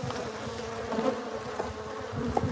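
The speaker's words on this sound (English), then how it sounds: "I'm just trying to get these bees off the camera." Honey bees buzz densely and continuously around hives being fed sugar, a close, steady droning swarm with no voices.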